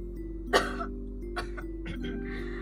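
Several dry coughs from a person nearby: one sharp, loud cough, then two softer ones about a second apart over a quiet room hum.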